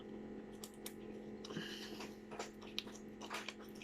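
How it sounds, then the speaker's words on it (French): A pet crunches dry dog kibble indoors: quiet, close-up chewing and biting in short, irregular bursts with no talking. "Il mange les croquettes pour Scrap."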